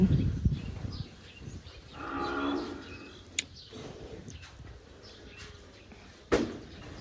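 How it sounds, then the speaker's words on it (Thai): A water buffalo on a Thai rice farm after the harvest lets out a low, drawn-out moo in the middle of an outdoor scene, with faint rustling and a few sharp clicks around it. "ก็คุณควายก็สบายนะคะ ทุกคน"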